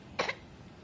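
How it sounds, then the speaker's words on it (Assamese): A single short, sharp cough rings out indoors at a home, followed by quiet room noise. "কাহ ধৰিছে"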